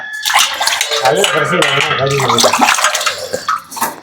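A large scorched pot is washed and scrubbed with coconut husks, and splashing water and scrubbing run beneath loud, close talking.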